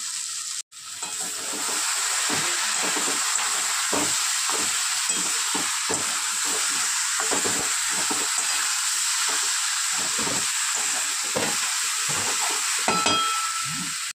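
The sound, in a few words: sautéing cauliflower and prawns with garam masala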